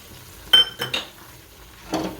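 A spoon clinks against a pan a few times while ground cashew, almond and pistachio powder is stirred into gundar paak, a Gujarati edible-gum sweet. The clinks are sparse, close and fairly quiet, with no talk.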